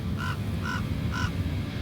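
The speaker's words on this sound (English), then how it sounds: "Crow has something to say about it." A crow caws outdoors three times in a quick rhythm, the harsh calls standing clearly above a steady background of ambient noise, with no one talking.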